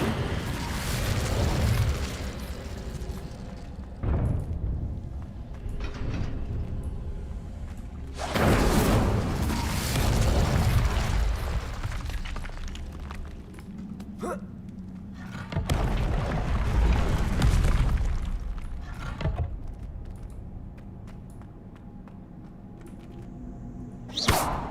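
Incendio fire spells are cast repeatedly in Hogwarts Legacy, each one a loud whooshing, bursting flare of flame, with several such bursts spaced across the stretch and quieter gaps between.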